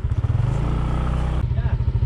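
Motorbike passing close by on a road near Manila in Oriental Mindoro, its engine putting steadily at moderate loudness and briefly changing pitch as it goes by.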